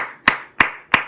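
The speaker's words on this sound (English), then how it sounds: "And she's clapping." A woman clapping her hands three times in a slow, even rhythm, each clap sharp and close with a brief ringing tail in a quiet room.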